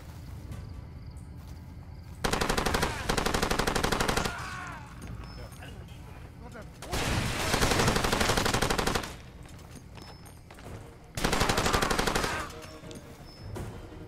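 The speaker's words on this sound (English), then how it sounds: "Let's go machine gun mode." Machine gun fire in Far Cry 2 roars in three long, loud bursts of rapid shots, separated by quieter stretches of jungle ambience.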